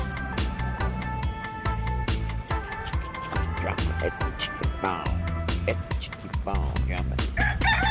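Leghorn chickens on a farm cluck repeatedly and a rooster crows, close and loud, with someone talking over the birds.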